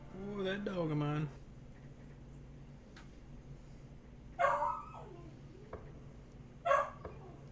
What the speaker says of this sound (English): Oh, that dog of mine.